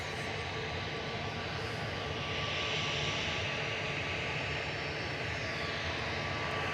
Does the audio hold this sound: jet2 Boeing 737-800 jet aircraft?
yes